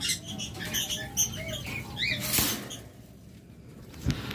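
A pair of yellow pet birds in a cage give several quick high chirps and twitters, near and fairly clear, with faint rustling and a brief knock near the end.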